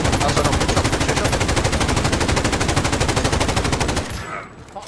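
Sustained rapid automatic gunfire in Call of Duty Modern Warfare, a dense unbroken stream of shots lasting about four seconds before cutting off abruptly into quiet.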